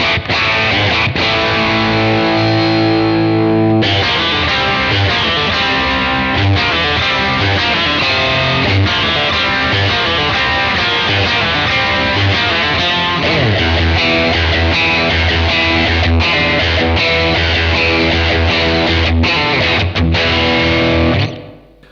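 Electric guitar played through the Ziggy drive overdrive of a Blackstar AMPED 1 pedal, loud and sustained, with ringing chords and riffs continuing throughout.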